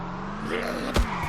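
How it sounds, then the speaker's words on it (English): A car crashes in a survival video game set in a quarantine zone: a brief engine-like drone ends in a short impact thump, loud and up close, with no voices. "kind of wrecked the car a little bit."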